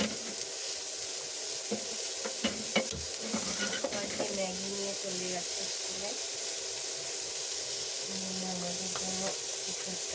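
Potato and yardlong bean pieces fry in a pan on a home kitchen stove, giving a steady sizzle with occasional scrapes and stirring clatter, while a voice talks intermittently over it.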